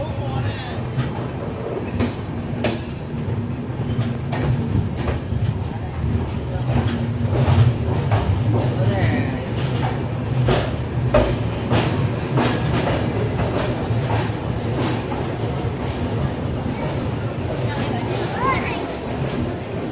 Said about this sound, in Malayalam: നമ്മളങ്ങനെ കോയമ്പത്തൂർ റെയിൽവേ സ്റ്റേഷനിലേക്ക് എത്തിക്കൊണ്ടിരിക്കുക